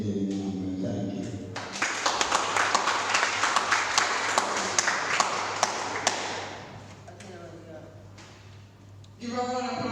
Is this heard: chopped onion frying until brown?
no